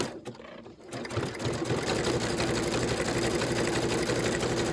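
Sewing machine stitching freestanding lace with a little back stitch, a steady close mechanical whir that starts after a brief quiet moment and runs continuously to the end.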